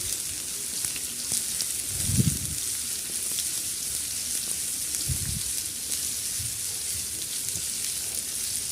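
Chicken curry masala frying in a pan, a soft steady sizzle with two brief low thumps of a spoon stirring, fairly quiet and close, no speech.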